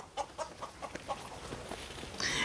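Farm hens cluck in a quick, uneven series of short clucks, close and moderately loud, with a brief rising squawk at the very end.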